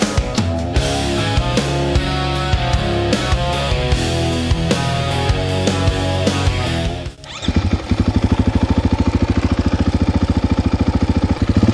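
A 2026 KTM 450 XCF-W dirt bike engine revving hard on an off-road lap, loud and continuous, with a brief dip partway before it pulls again with a steady, rapid firing pulse.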